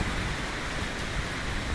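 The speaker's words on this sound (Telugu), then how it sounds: "చూసారా ఎంత బాగుందో వర్షం" Steady rain falls in a dense, even hiss of drops, moderately quiet and unbroken, with no voices over it.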